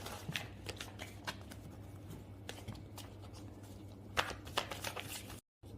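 Tarot cards being shuffled and drawn by hand, with a run of crisp riffling clicks and soft slaps that come in irregular bursts, close and moderately quiet, with no talking.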